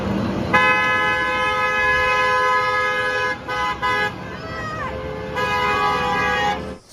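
A toy school bus horn plays a bright, tonal toot-toot melody, loud and close, broken by short gaps and a few pitch-sliding notes, with faint handling noise underneath.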